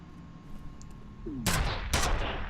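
Gunfire in the shooter game FEAR: two loud, sharp bursts of shots about half a second apart, the first trailing a short sliding whine, against a low, steady game background.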